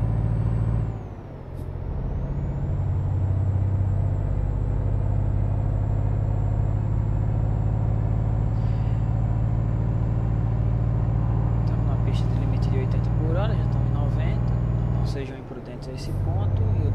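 Truck engine in Euro Truck Simulator 2, a loud sustained droning rev held for a long stretch, dipping briefly near the start and near the end as gears change, with a voice talking over it.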